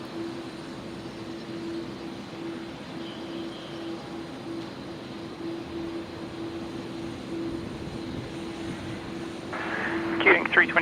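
Aircraft engines whine and rumble in a steady, moderately distant drone at Brisbane airport, swelling slightly near the end, while people talk over it.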